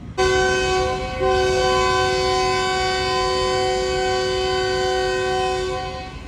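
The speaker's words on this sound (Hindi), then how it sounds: "सिर्फ 2 मिनट रुकी है ट्रेन और डिपार्टिंग विसल दे दिया है GEU20 ने" A GEU20 diesel locomotive hauling the Khushal Khan Khattak Express sounds a long, loud, steady multi-tone departure whistle at a brief station stop. The whistle holds for about six seconds with one short dip near the start.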